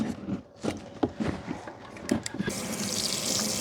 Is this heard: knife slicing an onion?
no